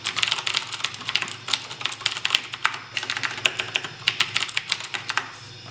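Rapid typing on a Razer BlackWidow mechanical keyboard gives a dense run of crisp clicky keystrokes in irregular bursts with short pauses, close and moderately loud, with no talk.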